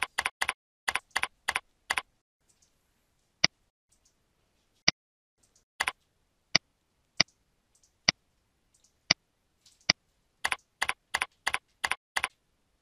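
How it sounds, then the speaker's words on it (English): Computer keyboard typing as an administrator enters received responses into a scoring web page: bursts of rapid keystrokes at the start and end, with isolated single clicks spaced out between them, close and clear with no voices. "The administrator keys the received responses under the Score Dpas DVD tab."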